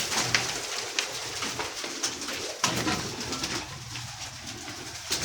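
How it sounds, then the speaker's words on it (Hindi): Pigeons for sale coo repeatedly in soft, throaty calls, close by over a steady background hiss. "ये कबूतर देखें"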